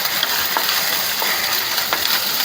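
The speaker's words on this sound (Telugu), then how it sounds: "అల్లం తెల్లగడ్డ వేగిన తర్వాత" Ginger and garlic frying in a pan for a gravy, giving a constant close, loud sizzle with a few brief stirring scrapes and no talking.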